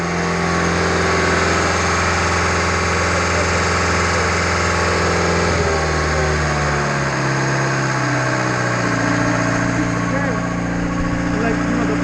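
A Schwing BPA500 concrete pump engine runs loud and steady at close range, its droning hum shifting pitch midway as the load changes, with people talking over it at times.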